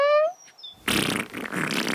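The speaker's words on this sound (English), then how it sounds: "You farted! Oh, that stinks!" A fart after eating beans: a short, loud, raspy blast, rising and then sputtering for about a second before trailing into breathy noise.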